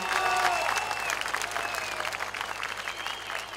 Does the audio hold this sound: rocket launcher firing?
no